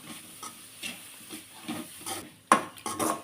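Carrot burfi mixture is stirred in a pan, a steady run of repeated scraping strokes close by, ending in a louder metallic clatter and scrape.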